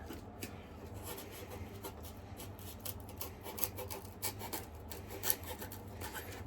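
A dull craft knife trims and scrapes the material of a hillside embankment on a model railway layout, giving soft continuous rasping and rubbing with a few sharper scratchy strokes, close and quiet, with no talking.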